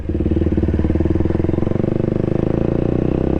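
Loud, close KTM RC200 motorcycle engine revving steadily through an aftermarket SC Project exhaust, with a rough, throaty rumble and rapid pulsing, continuous throughout.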